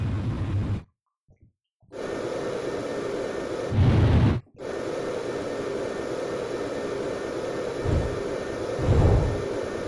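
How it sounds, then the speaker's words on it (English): A jet fighter takes off in the Ace Combat 5 flight game, a steady broadband engine roar that briefly cuts out and then swells back, surging louder in a few rushing waves. "Blaze, you are cleared for takeoff."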